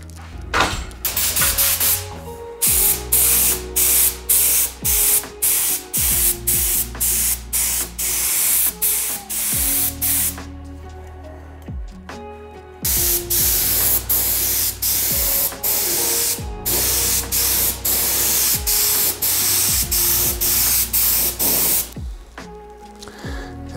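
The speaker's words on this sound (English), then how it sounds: "I will spray some color." Airbrush paint spraying onto a masked carbon bicycle frame in a paint booth, with repeated sharp hissing bursts of varying length separated by brief pauses, loud and close, no talking.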